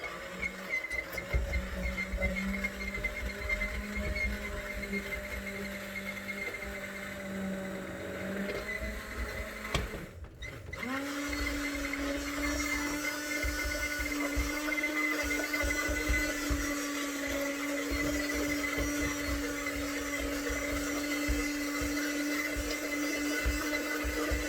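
A kitchen blender purees potato and brown mushroom soup, starting with a steady whirring motor hum, pausing briefly midway, then restarting with a louder, higher, sustained drone that runs continuously to the end.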